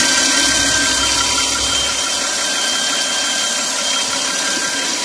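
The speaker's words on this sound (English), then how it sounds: "The engine started up." A car engine with blow-by runs with a steady, harsh, rattling drone, loud and close throughout, with a slightly uneven, spluttering texture and no talking.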